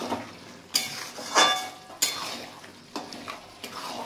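Mutton is stirred and fried in a pot of curry. A low sizzle runs underneath, broken by several sharp scrapes and clinks of a spoon against the pot at uneven intervals.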